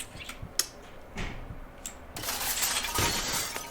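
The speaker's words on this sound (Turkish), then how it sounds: "niye cam pencereyi patlattın?" Glass window shattering in the horror game Layers of Fear: a sharp crash bursts out midway and trails into a noisy spray of falling shards, preceded by a few faint clicks.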